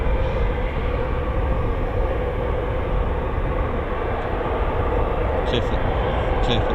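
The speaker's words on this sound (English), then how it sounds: "Clear for takeoff, Typhoon" A Eurofighter Typhoon FGR4 jet takes off at RAF Coningsby, its engines a steady, loud, broadband roar that holds unbroken from start to finish.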